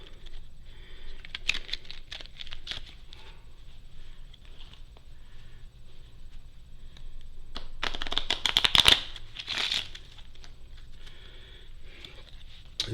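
A deck of cards being shuffled up close, with riffling bursts and soft flicking, building to a louder, denser riffle near the end.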